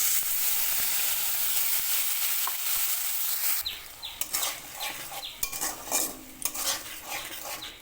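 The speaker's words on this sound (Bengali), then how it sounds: "কয়েক সেকেন্ড মশলাটা একটু ভাজা ভাজা করে নেব" Whole cumin, dried red chillies, bay leaves and a ground spice paste sizzle in hot oil, a steady hiss at first, then a spatula clinks and scrapes against the pan in irregular strokes.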